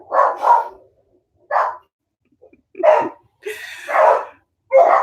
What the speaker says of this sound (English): I'm sure you can hear the dogs. There are 3 dogs here.